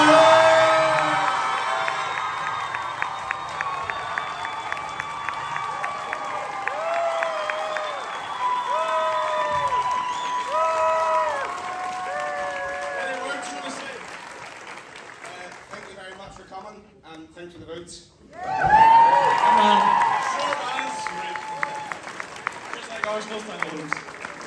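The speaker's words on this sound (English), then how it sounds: "let's give them a massive final round of applause" A talent show audience at Slemish's Got Talent 2024 applauds and cheers. A presenter talks over a murmuring crowd at first, then a loud swell of clapping and whoops rises near the end.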